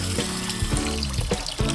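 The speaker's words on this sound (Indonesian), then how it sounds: "Beras ketan yang telah bersih harus dicuci pada air mengalir" Glutinous rice being rinsed under running water, a steady splashing stream with soft irregular swishes as the grains are stirred, close and continuous with no voices.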